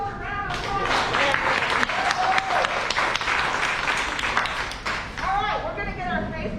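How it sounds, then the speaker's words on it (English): A group claps together in sustained applause at a mask-making workshop. The clapping stays dense and steady for several seconds, with voices talking and calling out over it. "let's give ourselves a round of applause"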